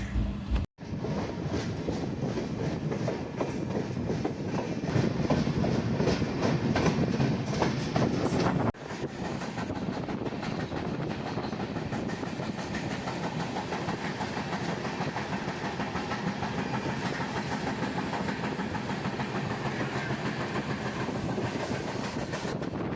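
The Madgaon–Hapa Superfast Express train rumbles steadily along the tracks near Khed, Maharashtra, with rhythmic clattering of wheels, loud and close, continuing without pause for the whole stretch.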